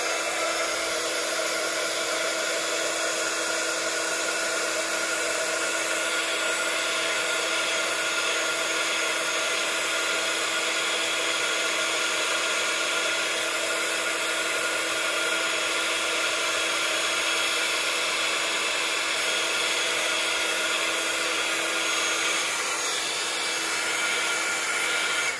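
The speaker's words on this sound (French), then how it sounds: "Je vais chauffer ma poudre à embosser et directement appliquer mon foil juste après." A heat tool blows steadily on embossing powder before foil is applied, a continuous loud whirring hiss with a fixed hum that holds unchanged throughout, with no voices.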